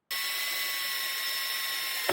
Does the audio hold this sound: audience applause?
no